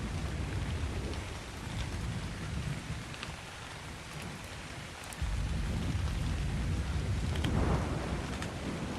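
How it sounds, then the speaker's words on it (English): Rain and a thunderstorm in the video game Ark Survival Ascended: a steady hiss of rainfall with low rumbling thunder rolling underneath, swelling louder partway through. "Unfortunately, the storm just set in, which is probably going to make things even more difficult"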